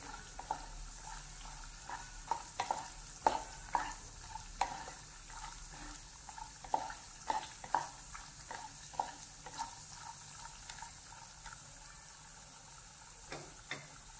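Cashews fry in a pan while being stirred continuously, a low steady sizzle broken by frequent light clicks and taps of the spoon against the pan, irregular and close, with no voices.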